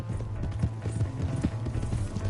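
Horse hooves clip-clopping at a quick, steady pace in Red Dead Redemption 2, a continuous rhythmic run of close, moderately loud beats with no talk over it.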